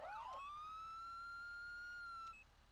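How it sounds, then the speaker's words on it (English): A fire truck siren in GTA rises from a quick wail into a long steady tone, clear and alone, then cuts off abruptly. "Or fire sirens."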